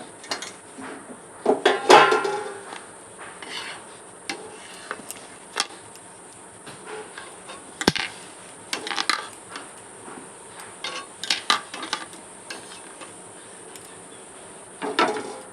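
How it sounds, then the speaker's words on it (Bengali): Semolina, sugar and grated coconut stirred in a pan make intermittent scraping taps and clinks of a spoon against metal, spaced irregularly over a quiet background. "নারকেলটাকে দিয়ে ভালো করে এবার নাড়াচাড়া করব।"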